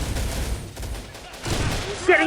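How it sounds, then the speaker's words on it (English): Dense gunfire rattles through a war video game battle, with rapid overlapping shots under a steady loud mix and a voice speaking over it. "there's a lot of gunfire"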